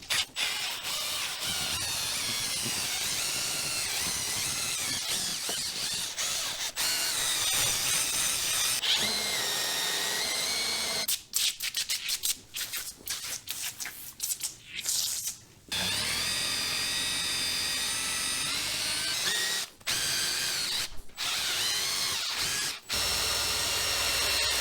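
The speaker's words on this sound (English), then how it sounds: "I think it's time we pulled out our old friend, the drill brush." A power drill spins a wire brush against metal parts of a Hofmann Suisse tool grinder, a loud continuous grinding whir with brief stops and restarts in the middle and near the end.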